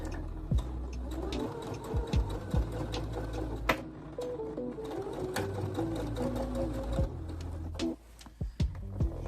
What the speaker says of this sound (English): I'm going to go ahead and start stitching on part of the area that has already been stitched